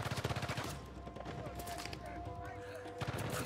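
Gunfire in Uncharted 4 rattles in rapid repeating bursts at the start and again near the end, with a steadier stretch of mixed game sound between them.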